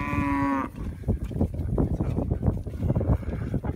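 Cattle near a slough on a Colorado walk give a drawn-out moo at the start, followed by rustling and footstep-like noise with no clear calls.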